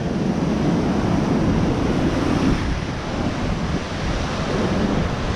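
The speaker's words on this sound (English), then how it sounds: "There's definitely some wind coming off the sea today." Stormy surf crashes and roars continuously at Blackpool while strong sea wind buffets the microphone, a dense, loud rush of water and gusts with no voices.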